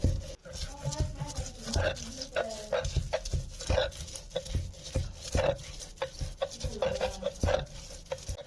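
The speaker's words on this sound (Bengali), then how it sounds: "পাতাগুলোকে যতটা সম্ভব আমি মিহি করে বেটে নিচ্ছি" Boiled bottle gourd leaves ground into a fine paste for a Bengali vorta, heard as repeated scraping and pressing strokes in an irregular rhythm, close and fairly clear, with a voice talking over parts of it.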